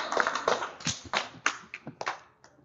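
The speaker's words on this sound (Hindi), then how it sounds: "तो स्वागत कीजिए जोरदार तालियों के साथ अंश जेठलिया का।" A small audience at a Hindi poetry tribute gives scattered applause, a few distinct hand claps close by that thin out and fade toward the end.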